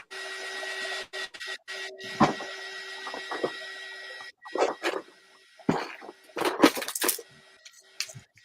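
A handheld craft heat dryer whirs steadily over a mixed media canvas, its hum cutting out and restarting several times, with clicks and clatter from the work table in between.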